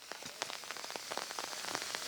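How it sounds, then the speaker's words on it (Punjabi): Steady rain patters on the surfaces of a farmers' protest camp at the Shambhu border: a dense, close hiss of drops with scattered sharper taps throughout and no voices. "ਮੀਂਹ ਪੈ ਰਿਹਾ ਹੈ"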